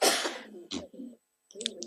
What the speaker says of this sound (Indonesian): Kok tiba-tiba jadi batuk gitu?